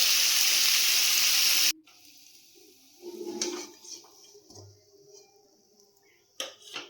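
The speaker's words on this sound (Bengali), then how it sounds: "এবারে সুন্দর করে লাল করে ভেজে নেব।" Pieces of stingray (shankar) fish fry in oil in a wok with a loud, hissing sizzle that cuts off abruptly after under two seconds, followed by quieter clinks and kitchen handling.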